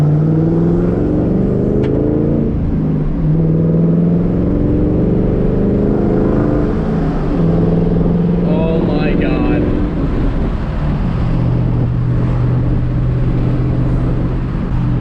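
A 1999 Ford Mustang GT cruises along at steady speed, its engine droning low and constant from inside the cabin with rising and falling tones as it shifts, overlaid by wind and road noise for the whole stretch.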